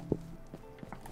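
Horse hooves in Minecraft, a few soft clip-clop steps over about a second, fairly quiet and close, with no talk.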